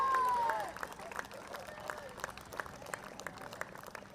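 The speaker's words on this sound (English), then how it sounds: "I would request everyone to kindly keep on clapping, please." Audience applause at a senior women's inter-state cricket tournament match, Meghalaya vs Sikkim, steady scattered clapping from a crowd at moderate distance, briefly preceded by a voice over the public address.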